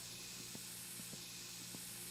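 A spray can hisses in My Summer Car, a faint, steady airy spray with a few soft clicks and taps.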